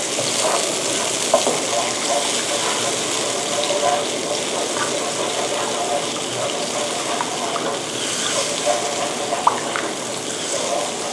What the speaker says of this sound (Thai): ตอนนี้น้ำกะทิกำลังเดือดนะคะ